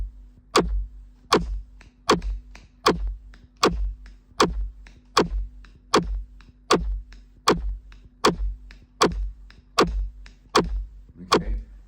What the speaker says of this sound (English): hitting behind the beat sounds like this.